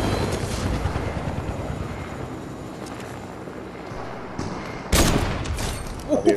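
Gunfire in a shooter video game aimed at an enemy on a helicopter, continuous rotor and engine roar under rattling shots, ending with a sharp loud crack and a few bursts.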